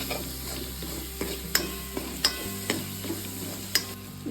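Spice powder being stirred into capsicum kurma in a pan on a low flame, a soft sizzle broken by sharp spoon clinks against the pan at irregular intervals, close up with no talking.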